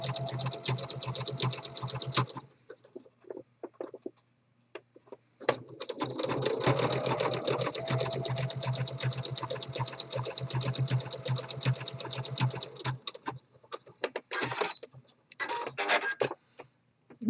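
A home sewing machine topstitches fleece in fast, steady mechanical whirring runs, stopping briefly at about two and thirteen seconds before starting again in shorter bursts; loud and close, with no talking.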